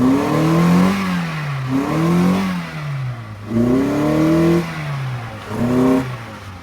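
The engine of a 2009 Toyota Corolla with an accelerator response fault is revved repeatedly, rising and falling in several close, loud swells with a clattery undertone.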